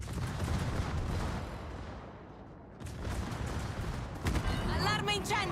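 Secondary guns of the battleship Michelangelo firing in a naval video game, a rapid rumbling barrage of blasts that eases off midway and then resumes loud.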